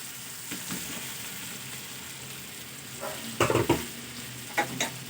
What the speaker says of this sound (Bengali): আলুটাকে মশলার সঙ্গে আর একটু ভালো করে কষে নেব।